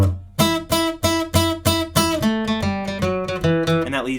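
Acoustic-style guitar strums the bouncy instrumental break of a song, punchy chords on a regular beat giving way to a descending run of single notes, close and loud with no voices.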